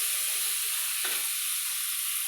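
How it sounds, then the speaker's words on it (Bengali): Banana flower paturi fries in a pan with a steady, close, hissing sizzle that stays even throughout, briefly rising in a soft burst midway, with no voice. "আমি যে পাতুরিটা ভাজতে বসিয়ে দিয়েছিলাম"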